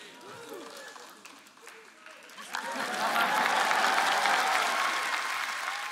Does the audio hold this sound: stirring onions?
no